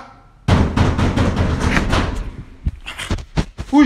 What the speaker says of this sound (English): Why are you knocking my door like that?